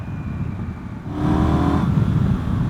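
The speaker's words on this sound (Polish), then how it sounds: "Teraz jak dodałem gazu" A 2024 KTM 990 Duke motorcycle engine idles close by, then the throttle opens and the engine climbs into a louder, sustained rev that holds to the end, with no talking.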